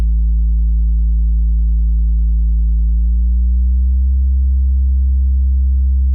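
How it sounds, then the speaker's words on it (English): Synthesized hip hop sub bass, a pure sustained low tone that holds steady for about three seconds, then glides upward a few notes and settles, loud and alone before cutting off abruptly. "just used a simple hip hop sub right there"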